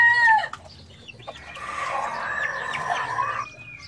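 A rooster crows once loudly up close, then settles into a run of softer, chattering clucks and calls from the fowl over a quiet background.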